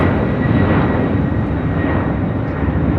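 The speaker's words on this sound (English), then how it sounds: "United Airlines 3029 taking off to Chicago O'Hare on a 767-300ER." A United Airlines Boeing 767-300ER takes off from LAX with a loud, steady broadband jet roar that fills the air continuously, heard from nearby without any talk.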